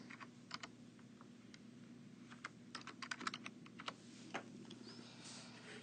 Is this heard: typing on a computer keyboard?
yes